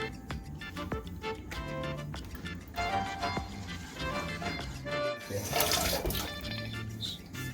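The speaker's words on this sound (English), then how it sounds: "Wash the teaspoon." A teaspoon is rinsed under a running kitchen tap, a steady close splash and trickle of water lasting several seconds with clinks and small surges, no one speaking.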